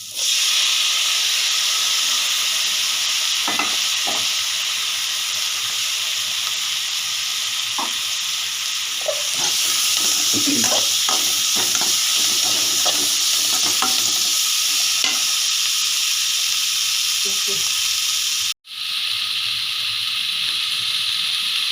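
Tomatoes sizzle loudly in hot oil with mutton masala for a fried rice dish, a steady frying hiss broken by scraping and clinking as a utensil stirs the pan.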